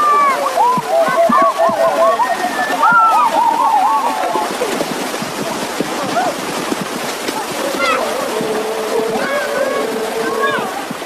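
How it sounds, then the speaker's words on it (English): Men bathe in a small river beside a village, with repeated splashing and sloshing of water close by, mixed with lively shouts and calls throughout. "the men head for a small river on the other side of the village to bathe"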